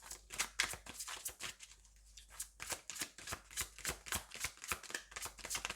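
A tarot deck is shuffled close by in quick riffling bursts, the cards slapping and fluttering in a steady rhythm, with a brief pause before the shuffling resumes, loud and alone without talk.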